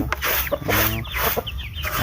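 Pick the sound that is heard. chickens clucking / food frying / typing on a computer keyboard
chickens clucking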